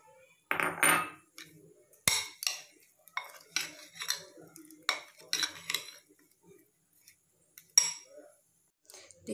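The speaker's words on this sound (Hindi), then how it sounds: "पूरे नीचे से नीचे करके ऐसे हम मिक्स कर लें, अगर चम्मच से नहीं हो रहा हो तो हाथ से कर लीजिए इसे" Potatoes for chili potato being mixed with a spoon in a bowl, heard as scattered clinks and scrapes of metal on the dish with pauses between strokes, close and alone.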